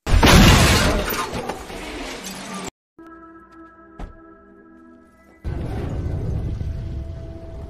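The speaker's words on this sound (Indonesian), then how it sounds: "Saat sampai di perempatan, mobil Han ditabrak dan sampai terguling dan meledak." Film scene of a car hit at an intersection, rolling over and exploding: a loud burst of crashing metal and shattering glass, a near-silent pause with a sustained tone, then a heavy roaring blast.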